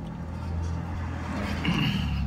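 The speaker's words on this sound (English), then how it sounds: "Let the car pass." A car passes near someone eating outdoors, a low rumbling engine swell that builds steadily over a couple of seconds.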